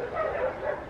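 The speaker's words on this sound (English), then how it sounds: "I apologize for the dogs in the background during this whole conversation," Dogs barking and yipping in the background of a home, a brief run of high whining barks at moderate loudness with no talk over them.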